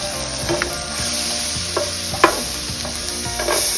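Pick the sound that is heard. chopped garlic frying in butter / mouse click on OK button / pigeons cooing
chopped garlic frying in butter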